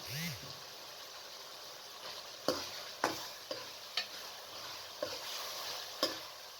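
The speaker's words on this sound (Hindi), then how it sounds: "दो से 3 मिनट तक मज़ीद इसे अच्छी तरीके से फ्राई कर लें।" Minced keema with green chilies fries in a pan as a soft, steady sizzle, with a spoon stirring and knocking against the pan in sharp clicks about once a second.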